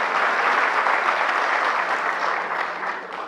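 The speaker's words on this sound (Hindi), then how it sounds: "तो ये तालियां जो हैं" Steady, dense audience applause at a training session on updating Aadhaar online through a CSC, loud and sustained throughout and fading slightly at the end, with no talk over it.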